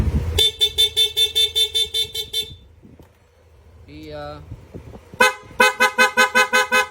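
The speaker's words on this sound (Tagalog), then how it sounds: "sa busina po ni Sir, ang ginabit po natin, PIA horn" A PIA horn fitted to a Yamaha NMAX V2 scooter blares in a fast run of rapid, pulsing honks, pauses while a short buzzy tone sounds, then resumes with another loud burst of repeated honks.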